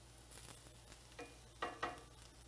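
Onions sizzle softly in a pan while being stirred, a steady low frying hiss with a few scraping stir strokes near the end, quiet and close.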